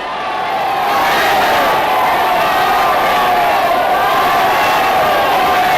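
A massive crowd at a Nazi-era Hitler rally roars and cheers in archival footage, a dense continuous wall of voices that swells early and holds steady and loud throughout.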